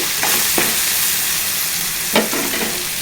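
A spoon stirring aloo poha in a pan, soft scraping strokes over a steady bright sizzle, with a couple of sharper clinks against the pan.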